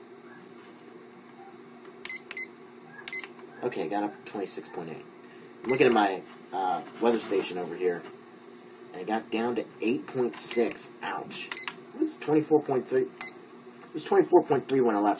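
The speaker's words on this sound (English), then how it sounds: "Sorry about the beeping." Someone talks while a few short, high electronic beeps sound in quick pairs near the start of his speech.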